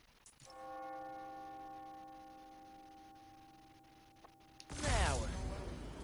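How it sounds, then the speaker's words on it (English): A single church bell strike rings out and hums on in a long, slowly fading tone, then a loud rustling thump cuts in near the end. "When I hear those bells"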